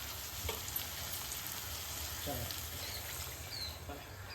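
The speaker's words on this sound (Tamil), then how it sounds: "சிக்கனும் நல்லா இது மசாலாவோட ஃப்ரை ஆகி எண்ணெய் வந்துருச்சு" Steady sizzling of chicken frying in oil and masala, a continuous crackling hiss with faint bird chirps in the background.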